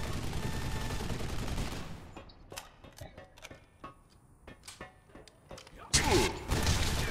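Assault rifle fire in the online shooter game Loadout, heard as a scattered run of sharp, separate shots between louder bursts of game noise at the start and end.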